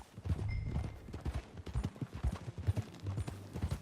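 Horse hooves clip-clop in a quick, uneven galloping rhythm during riding in the video game Red Dead Redemption 2, moderately close with soft thuds.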